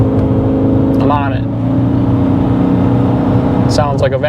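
Ford Maverick hybrid with CVT accelerating, a steady monotone engine drone with a constant pitch, heard close from inside; a person talks over it twice.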